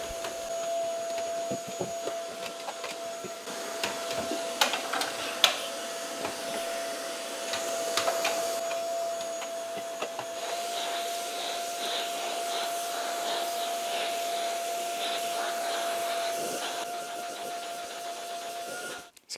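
Dreame Z30 cordless stick vacuum running with its narrow soft-bristle brush, a continuous whining hum with a steady tone, shifting slightly as the brush moves around a DVD player, close and moderately loud.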